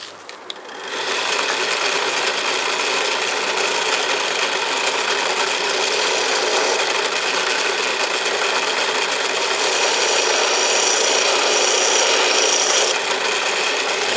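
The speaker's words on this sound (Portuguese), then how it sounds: "você usa uma lima normal e encaixa ela dentro da ranhura." A hand file works a groove into a homemade grooved pulley, giving a steady, dense rasping that runs without a break for over ten seconds, loud and close with no talk.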